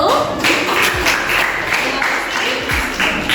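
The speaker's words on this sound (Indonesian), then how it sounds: "beri aplaus untuk kelompok 1" A classroom audience applauds a student presentation group, continuous clapping heard close and fairly loud, with some voices mixed in beneath it.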